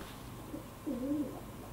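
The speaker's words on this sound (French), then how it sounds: "Oh, les pigeons, s'il vous plaît." A single soft, low pigeon coo rises and falls against quiet background noise.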